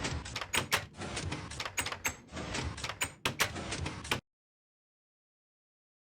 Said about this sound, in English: Some of the most annoying things can be the minecart itself, pistons, the note blocks, and doors opening and closing repeatedly.